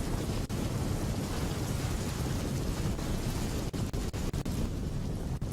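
Heavy monsoon downpour with thunder in Rajkot, Gujarat: a dense, loud, continuous roar of rain and deep rumbling, broken by a few brief dips near the end.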